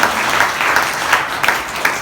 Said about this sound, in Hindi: चलो सर के लिए ताली बजा दी